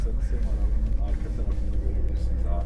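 Deep, steady engine rumble inside a moving Ford F-Max truck cab, a low drone that continues under a person speaking throughout.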